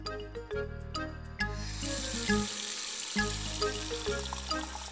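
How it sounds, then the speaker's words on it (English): Cold water pours from a kitchen tap into a bowl in a cartoon kitchen, a steady hissing splash over a backdrop of music that runs throughout. "She filled a bowl with cold water."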